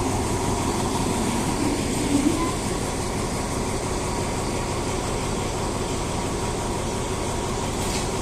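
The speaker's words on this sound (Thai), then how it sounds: "ก็เป็นหัวจักรอันซ่อมหมายเลข4308" Diesel locomotive number 4308, a repair-unit engine, hauling passenger carriages at Chumphon station, heard as a steady broadband rumble of rolling stock and engine noise throughout, fairly constant in level with no talk.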